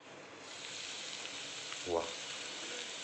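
Okra seasoned with turmeric frying in a covered pan on a gas stove, giving a soft, steady sizzling hiss throughout with a brief faint voice-like sound near the middle.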